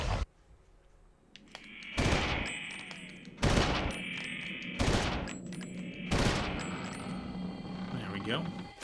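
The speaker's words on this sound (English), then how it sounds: "Round burst for 10 shots sounds pretty good." Four loud, evenly spaced blasts of game gunfire ring out, each with a metallic ringing tail, over a steady electronic background.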